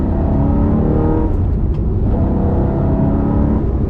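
A remapped Ferrari 360 Modena engine rumbles loudly at low revs from inside the car while driving, a continuous throaty drone with slight rises in pitch and no talk.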